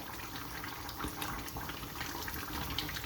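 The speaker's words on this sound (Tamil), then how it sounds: "மண் சட்டியில் சும்மா கொதிக்குது" Crab curry bubbles at a steady simmer in a clay pot, giving a continuous close, soft gurgling and hissing boil with no talk over it.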